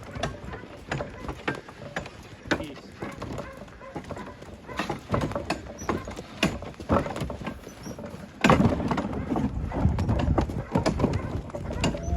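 Hooves clop steadily on a hard surface in an uneven walking rhythm, close by, with creaking and rattling in the background that grows louder partway through.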